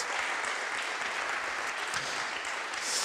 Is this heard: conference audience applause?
yes